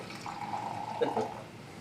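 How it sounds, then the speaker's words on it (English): Tonic water pours from close by into a glass, giving a steady fizzing trickle with a soft bubbling rise partway through, heard alone. "I'm going to pour this one close to the mic because it just sounds so..."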